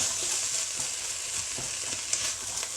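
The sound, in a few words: onion and pepper frying in a pan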